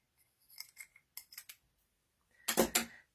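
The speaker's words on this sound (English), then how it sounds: "Get our snips and trim that up a little bit." Snips trim card stock for a handmade reindeer Christmas card, with a few quick, close, crisp snipping cuts in two short bursts and a louder final snip.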